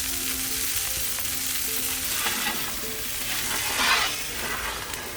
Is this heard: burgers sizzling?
yes